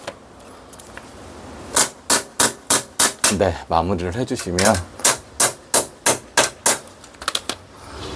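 A hammer drives a plastic wall anchor into a balcony wall while a clothes drying rack is being installed: two runs of sharp, evenly paced, loud metallic strikes, about a dozen in all, with someone talking briefly between them.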